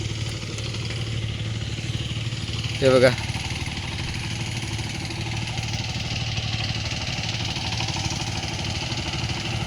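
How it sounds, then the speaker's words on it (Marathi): A large tractor engine runs steadily during rice sowing in Konkan, giving a continuous low rumble throughout, with someone speaking over it. "त्यांचं मोठं ट्रॅक्टर"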